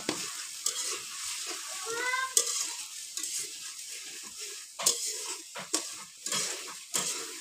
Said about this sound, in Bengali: এবার মশলাগুলো ভালো করে কষিয়ে নেব